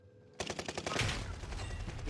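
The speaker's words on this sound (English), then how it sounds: "I got sniped from the top." Gunfire in an Apex Legends ranked match, including a sniper rifle shot from high ground: a quiet lead-in, then a sudden loud burst of rapid, evenly spaced shots that settles into a steady, dense rattle of firing.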